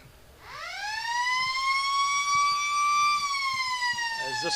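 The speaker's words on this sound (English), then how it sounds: "As the siren goes to end that third term" A loud, sustained siren sounds at an Australian rules football match between the Lions and the Swans, marking the end of the third quarter, with a steady held tone and faint crowd noise underneath.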